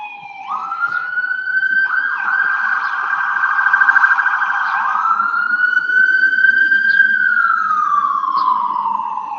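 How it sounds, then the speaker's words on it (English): Police sirens wail in a city street in Waikiki, Hawaii, a loud rising and falling tone close by, sweeping and holding for several seconds with faint traffic underneath. "Sorry about the sirens."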